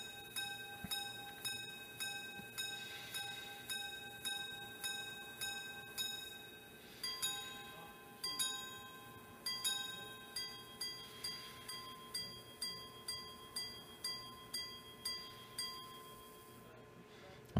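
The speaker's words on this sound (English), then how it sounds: "you heard 12 single chimes, then 3 double chimes for the quarter hours" A minute repeater watch chimes the time: a small, bright chime strikes twelve single tones in an even rhythm, then three paired double tones for the quarter hours, delicate and close with faint ringing decay.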